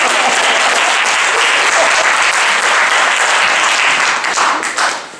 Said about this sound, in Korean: 박수를 한번 부탁드립니다.